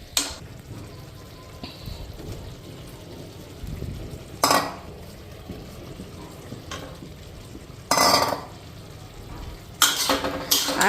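Fish goes into a frying pan on a home stove and starts cooking, giving a low steady sizzle with a few sharp bursts of frying and utensil clatter, no voices.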